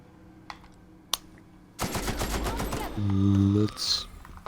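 Machine-gun fire in The Outer Worlds, a video game, during a raid on a geothermal plant: a loud rapid burst that lasts about a second after some faint scattered sounds, followed by a droning electronic tone with a voice speaking briefly.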